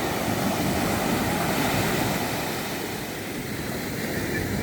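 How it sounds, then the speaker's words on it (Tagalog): Sea waves roll in along a coastline as a continuous, loud broadband wash, steady throughout with a slight dip midway, mixed with some wind rumble and no voices. "Ganda ng dagat."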